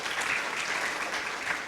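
A church congregation claps in loud, dense applause during a worship service, a continuous burst with no voices over it.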